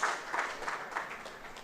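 A conference audience claps for a research scholar in brief, fairly soft applause that fades gradually over a moment.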